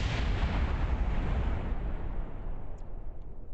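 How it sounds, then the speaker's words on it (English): A rocket explodes in the game Kerbal Space Program, a dense roaring blast rumble that fills the first seconds and then gradually thins and fades out, heard alone. "What's a KSP video without an explosion, right?"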